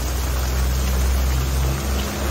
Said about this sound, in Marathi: जेवढं भुरकट दिसतंय तेवढा सगळा पाऊस आहे तो जोरात पडतोय